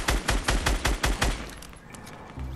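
Rapid automatic gunfire from a placed trap in Fortnite, about nine loud evenly spaced shots fired in quick succession, then tailing off into quieter game ambience.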